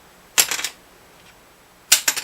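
A bone guitar saddle tapped twice, each a sharp bright rattle of quick clicks with a short pause between, close and clear with no talking.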